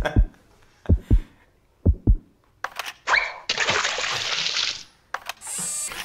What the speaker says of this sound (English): a heartbeat that falls and slips into water